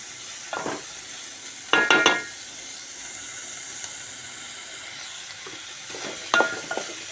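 Beans curry simmers and sizzles in a pan with a soft, constant hiss, interrupted by three short bursts of scraping and clattering as a spoon stirs it.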